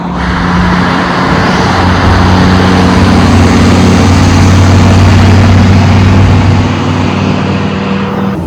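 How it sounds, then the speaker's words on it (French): Car ride during a trip in the United States: a loud, steady interior engine hum and road rumble that swells slightly midway, with no voices. "Là, on va monter dans la voiture."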